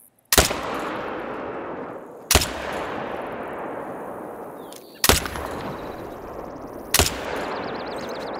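Four loud .223 rifle shots fired while hunting pronghorn outdoors, spaced about two seconds apart, each a sharp crack followed by a long rolling echo that fades before the next.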